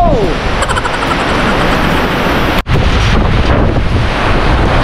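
Strong wind roars steadily with heavy rain in the Cayman Islands, dense broadband noise, continuous and loud with a brief dropout midway.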